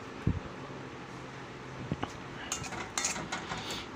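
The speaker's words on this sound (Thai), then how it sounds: "ต่อไปเราก็มาตั้งกระทะนะฮะ" A metal frying pan knocks down onto a stovetop with a soft clunk, followed by a few light metallic clinks in a quiet room.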